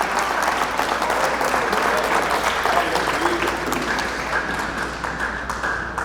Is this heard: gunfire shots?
no